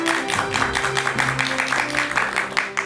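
A studio audience gives dense, steady applause to welcome a laughter therapy professor on a Korean talk show, with a sustained musical tone underneath throughout.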